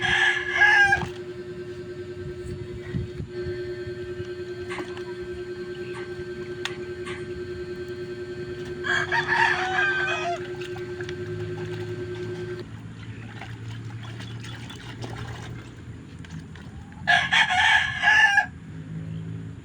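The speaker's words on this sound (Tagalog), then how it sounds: "Ganyan talaga siya mag-alaga sa mga manok niya guys." Backyard chickens and roosters in a rural setting: several loud crows ring out at intervals over a low background hum and soft clucking, close by.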